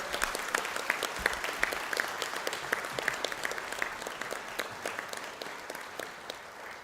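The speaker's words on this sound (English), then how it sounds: "I think that deserves a round of applause." Graduates and guests at a university conferring ceremony applaud after the tassels are moved, a sustained wash of clapping with distinct individual claps standing out, steady throughout and gradually easing toward the end.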